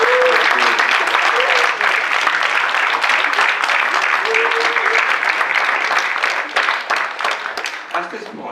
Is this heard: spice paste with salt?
no